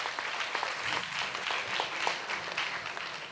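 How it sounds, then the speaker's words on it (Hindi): A church congregation claps in a short burst of scattered applause, moderately faint and fairly even for a few seconds. "वाह, ताली बजा दो।"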